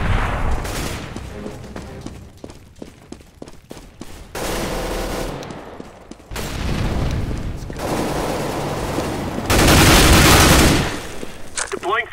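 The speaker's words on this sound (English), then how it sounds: "Throwing flashbang. That was a bad grenade." Loud game combat in Counter-Strike: Global Offensive, with a thrown flashbang grenade among dense bursts of gunfire and booming blasts, one big burst swelling near the end, while players talk over the clatter.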